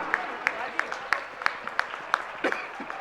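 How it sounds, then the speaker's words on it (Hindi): Steady, evenly spaced claps roughly three per second ring out at a prize distribution ceremony at M.D. Jain College in Agra, with voices murmuring underneath. "जोरदार तालियां।"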